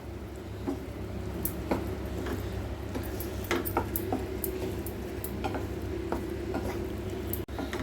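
A utensil stirs paneer bhurji in a pan, with scattered clicks and scrapes against the metal at an uneven rhythm, close by, over a steady low background hum and without speech.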